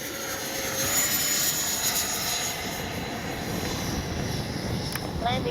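An FMS 80mm F-86 Sabre RC jet in Skyblazers colours makes a gear-down pass, its ducted-fan whine holding steady and fairly distant against outdoor background noise.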